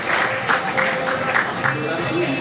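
Audience applause for a junior relay athlete at a Lombardy athletics awards ceremony: steady, dense clapping from a hall crowd for about two seconds, with voices mixed under it.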